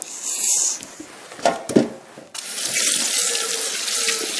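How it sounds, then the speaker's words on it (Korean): A pollock is washed under a running kitchen tap in a sink. The water splashes and gurgles over the fish, with a short clatter in the middle, then the stream runs steadily and loudly. "이제 물로 닦아 보겠습니다."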